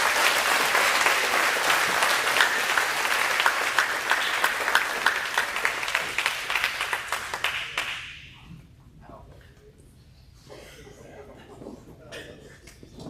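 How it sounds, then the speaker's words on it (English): An audience at an athletic awards banquet claps loudly and steadily for about eight seconds, then the applause cuts off into a quiet room. "can we give him a round of applause?"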